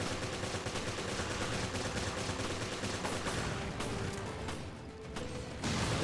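Gunfire from the survival horror game Resident Evil Revelations rattles constantly in a loud, dense stream of rapid shots with clattering impacts, dipping briefly before resuming.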